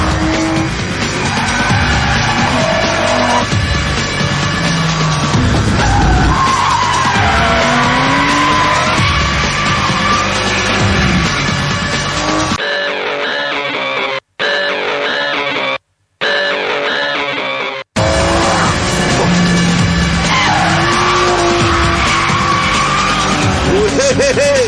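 An Aston Martin Vanquish and a Ferrari 575 drive hard, their loud engines roaring with tires squealing and skidding throughout, broken by a few brief near-silent gaps.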